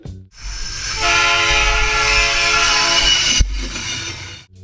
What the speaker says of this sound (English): the first thing you hear is a train horn in the distance